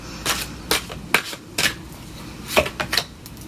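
Tarot cards are shuffled in a series of quick papery riffles and snaps, about eight short bursts spaced irregularly, close and fairly crisp against a quiet room.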